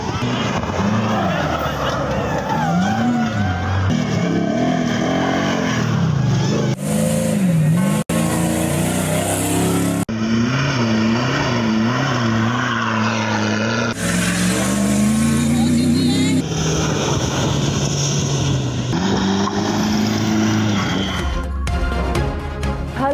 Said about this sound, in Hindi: गाड़ियों की दौड़। 8वीं थल जीप रैली का तीसरा मरहला।